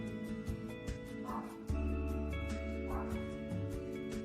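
A dog barks twice, a few seconds apart and somewhat distant, over a steady low hum.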